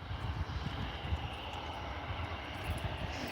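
An EasyJet airliner from Prague arrives at Liverpool Airport: a steady, fairly quiet broadband jet roar holds evenly throughout, with no voices.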